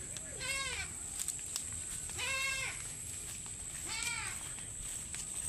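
Goats bleat in three separate, wavering calls spaced a couple of seconds apart, fairly close, over faint background noise.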